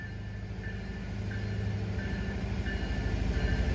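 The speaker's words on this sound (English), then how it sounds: "It's a coal train." A Detroit-style coal hauler train rolls past a road crossing in Holland, Ohio, a steady rumble of railcars that grows slightly louder, with a faint crossing bell ringing above it.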